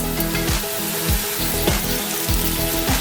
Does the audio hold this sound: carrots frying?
yes